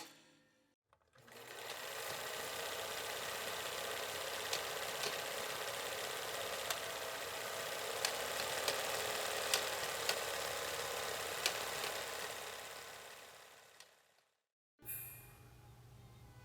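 A sewing machine stitches a skirt pocket in one long, steady run of about thirteen seconds, close and fairly quiet, then stops abruptly.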